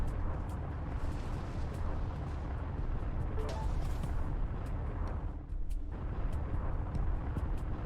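A flak cannon in the Everspace space-combat video game pounds a house to pieces with a continuous rumbling barrage of blasts and crackle, fairly distant and steady, dipping briefly near the end.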